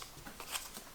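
Playing cards shuffled during a Castle Party board game setup: a brief run of soft, papery riffling flutters and light slaps, close and fairly quiet, with no talk over them.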